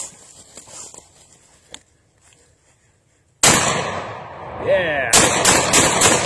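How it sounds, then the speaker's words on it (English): Shotgun firing rifle slugs from a Black Aces Tactical gun opens with one loud blast after quiet handling, then a quick rapid string of sharp shots follows, with a brief voice before the first blast. "All right, let's get some rifle slugs going on here."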